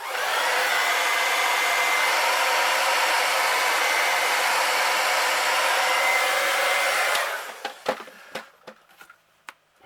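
Heat gun blowing hot air to set paint on a golden perch crankbait lure, a steady close whooshing roar for about seven seconds that cuts off, followed by faint scattered clicks and taps.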